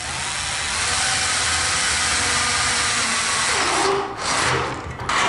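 A power screwdriver drives self-tapping screws into a metal profile while a soundproofed room partition is built, a loud, close, steady whirring grind that runs almost without pause before briefly dipping near the end.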